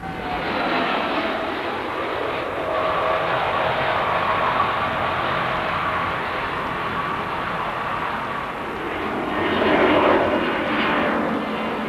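An Airbus A310 airliner drones steadily with its jet engines on a test flight, a broad continuous roar that swells slightly near the end.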